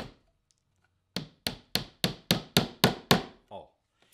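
Nails hammered into a wooden hinge template, seven sharp evenly spaced blows in a steady rhythm followed by a softer final tap, loud and close in a quiet workshop.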